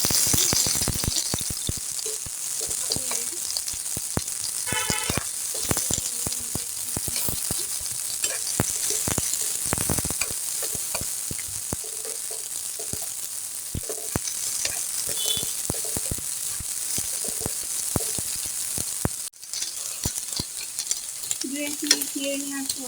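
Chopped onion, about a cupful, sizzles in hot oil in a pan while being stirred, a continuous crackling fry broken by scraping and clattering stirs, close and fairly quiet throughout.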